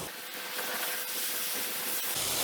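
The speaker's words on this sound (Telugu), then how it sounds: "దీన్ని మళ్ళీ మనం మూత పెట్టేసి స్టీమ్ ఇద్దామండి" Andhra-style crab curry with onions and tomatoes steaming under a lid in a pot, a soft continuous hiss at close range, with no voices.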